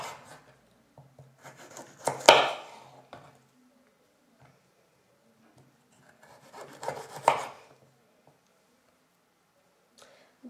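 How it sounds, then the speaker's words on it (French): A knife cutting through a large piece of carrot, two separate bursts of crunchy slicing and rubbing strokes, close and fairly loud, with quiet pauses between. "j'ai rajouté le gros bout de carotte que je coupe un peu"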